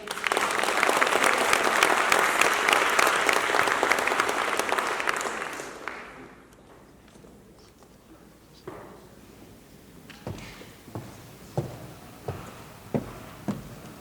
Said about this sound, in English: Let's put our hands together for this phenomenal woman